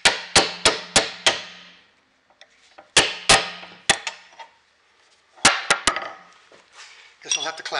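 An old axe head being hammered off its handle: bursts of loud, sharp metallic strikes in quick series, three to five blows per group with pauses between, close and ringing, with a little scraping in the gaps.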